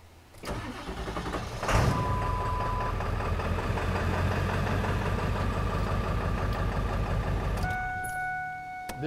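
A Ford 7.3L Power Stroke diesel truck cranks briefly, fires up and settles into a steady, loud idle after fuel bowl filter heater work. A tone chimes near the end.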